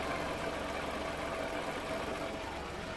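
Car engine running steadily near the vehicle during an ignition test, a constant close rumble and whir with no breaks and no voices.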